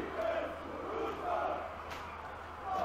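A home football crowd cheers and roars in a stadium, swelling in waves, with a person talking nearby.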